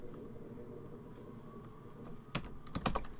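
Code is typed on a computer keyboard while writing a Visual Basic console program: quiet room tone first, then a close cluster of crisp key clicks in an uneven rhythm over the final second.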